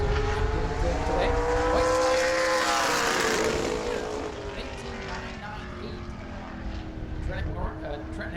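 A Super Late Model race car on a qualifying warm-up lap at New Smyrna, its engine droning loud and steady with a rising then easing pitch as it passes, over crowd and track noise, then holding at a lower level.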